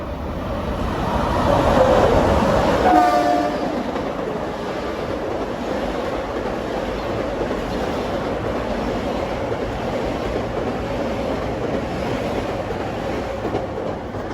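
Long Island Rail Road equipment rolls westbound past Mineola station at evening rush hour, a loud rushing roar with rhythmic rail clatter that peaks early then settles into a steady rumble.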